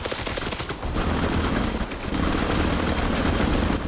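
Sustained automatic gunfire in the Harekat 2 video game, loud and continuous rapid bursts of shots blending into a dense barrage with no speech.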